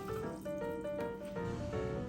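About a litre of water pours into a pot to be boiled for pasta, a close, steady splashing fill with a faint ringing tone, and no talk.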